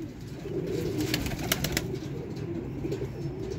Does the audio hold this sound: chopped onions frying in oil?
no